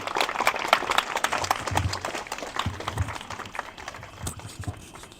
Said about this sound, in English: Everyone, a big round of applause for Kumarji.